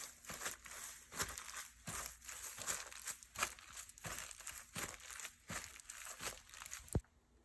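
Old sound tape crumpled by hand to mimic footsteps on grass, giving close, dry, crunchy crinkling in repeated bursts with a sharper crackle near the end.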